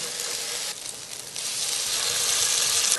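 Tuna pancakes frying in a pan, a steady broadband sizzle that dips briefly in the middle and then holds loud and continuous, close up with no talk.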